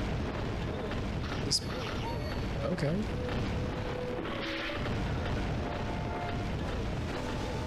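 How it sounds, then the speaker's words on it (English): Crates rising and falling in Scooby-Doo! Night of 100 Frights set off low, booming thuds like cannon fire. The booms sit in a dense, busy game soundscape, and a voice speaks briefly over them. "That's like cannon fire? Oh no, it's just crates rising up and down."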